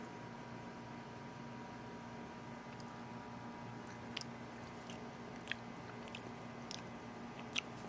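Quiet chewing of a spoonful of microwaved 2010 chili mac with processed cheese and bacon, soft moist mouth sounds with a few faint crunchy clicks over a steady background hum, no talking.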